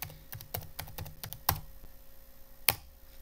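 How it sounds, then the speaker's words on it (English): Keys clatter on a computer keyboard in a short burst of separate clicks, with a louder isolated key press near the end, close by and with no talking. "So let's just type Simulink."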